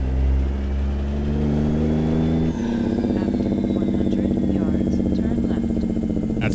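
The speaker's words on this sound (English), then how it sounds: "And here's the Jake brake." Low-setting Jake brake on a truck in American Truck Simulator: a steady close engine drone that shifts pitch midway into a rougher pulsing rumble, continuing loudly with faint higher tones over it.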